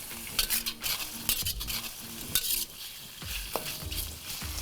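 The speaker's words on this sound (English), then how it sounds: "Let's give it a few fries here." Beef for Chinese noodles stir-fried in a hot pan, a steady sizzle under brisk, repeated scraping and tossing strokes of a utensil against metal, close and fairly loud.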